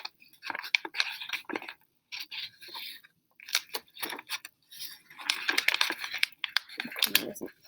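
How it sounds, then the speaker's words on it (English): Paper being pressed and folded flat along existing creases for an origami crane gives close, soft crinkles and scrapes in irregular bursts with short pauses between them. "I'm just going to push it flat, and it's going to fold along those creases we already made."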